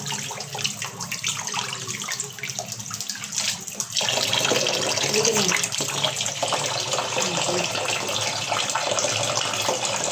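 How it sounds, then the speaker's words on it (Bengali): Tap water gushes and splashes over cut pomfret fish being washed in a sink, with softer handling sounds at first, then a louder, steady stream for the rest of the clip. "কেটে ধুয়ে নিচ্ছি, ফ্রাই করা হবে তাই।"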